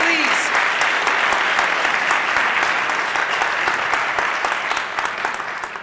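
Audience at a swearing-in ceremony in a middle school applauds elected officials, sustained dense clapping from a full crowd that fades slightly toward the end.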